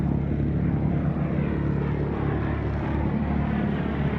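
A propeller aircraft rolls through a wingover at the Hunter Valley airshow, its engine a steady loud droning roar with a slight wavering pitch, held throughout.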